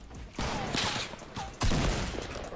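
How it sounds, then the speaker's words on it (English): Rapid automatic assault rifle fire in a video game comes in two loud bursts, the second heavier, with brief gaps between them. "This thing is like a literal assault rifle"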